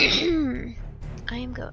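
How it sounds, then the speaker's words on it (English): A man clears his throat with a rough, gravelly rasp that rises and falls for about a second, close and fairly loud, followed by a short voiced trailing sound. "you guys totally didn't need to listen to me clear my throat"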